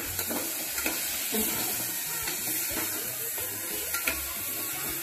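Tomatoes and coriander fry in hot oil with a constant close sizzle and hiss, while a spoon stirring them adds light scraping taps at irregular moments.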